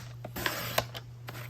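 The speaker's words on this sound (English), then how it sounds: "I'm going to put it in my trimmer like this" A paper trimmer slicing through cardstock, a few quick close scraping and clicking strokes within about a second, fairly faint over a low hum.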